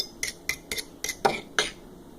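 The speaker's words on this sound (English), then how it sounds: "I'm just going to have to stir this up and stir it till it's a nice consistency." A utensil stirs a thick homemade slime mixture with paint in it, making six quick, evenly spaced clinking scrapes against the container, close and fairly crisp, with no talk over them.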